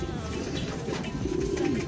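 Racing pigeons cooing softly in a loft, a low continuous murmur of coos with no talk.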